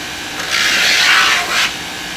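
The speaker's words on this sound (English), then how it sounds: "I'm going to roll it on the sander here to again try to help flatten it out" A part of a Breedlove acoustic guitar body is rolled against a powered sander in a guitar factory, giving a loud, close abrasive hiss that swells for about a second and then eases off.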